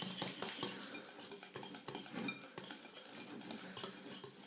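Softened butter is beaten in a bowl for chocolate sablé dough, the utensil clinking and scraping against the sides in quick, uneven strokes, fairly quiet and with no voices.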